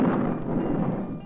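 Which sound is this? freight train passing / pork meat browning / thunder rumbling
thunder rumbling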